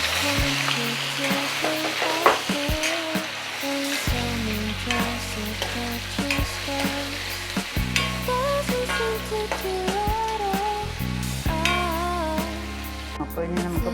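Paneer frying in a pan sizzles and is stirred, the crackle running under loud, continuous background music with sustained notes from start to finish.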